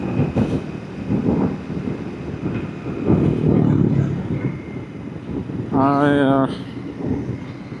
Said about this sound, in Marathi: वारा खूप आहे.